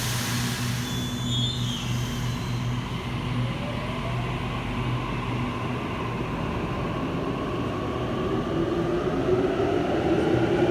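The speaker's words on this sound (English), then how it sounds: "And Waratah departing platform number 1 for an Emu Plains service." A Sydney Waratah train departs platform 1 on an Emu Plains service, a loud close rumble with a brief high squeal early on, then a rising motor whine as it pulls away, steady throughout.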